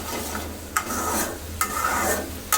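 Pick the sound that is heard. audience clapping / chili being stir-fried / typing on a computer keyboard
chili being stir-fried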